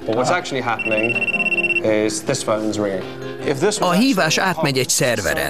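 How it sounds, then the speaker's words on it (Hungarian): Telephone ringing, a short electronic buzzing tone lasting about a second, heard once clearly beneath a person talking continuously. "mégis ez a telefon csöng."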